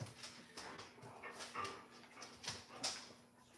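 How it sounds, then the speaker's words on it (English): A dog whimpers faintly in short, repeated high whines and yips, soft and somewhat distant against a quiet room background. "Yeah, that dog wants something too"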